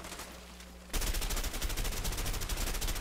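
Rapid sustained gunfire breaks out in the video game A Way Out after a brief quieter stretch, a dense continuous burst of shots that carries on to the end.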